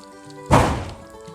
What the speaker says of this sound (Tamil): தீபாவளி நேரங்கிறனால வெடி வெடிக்கிறாங்க,